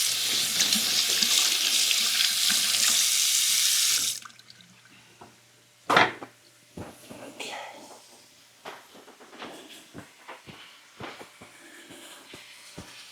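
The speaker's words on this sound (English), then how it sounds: "Wash my hands." Tap water runs loudly into a kitchen sink as hands are washed, a steady gushing rush for about four seconds before shutting off, followed by scattered clatter and handling sounds.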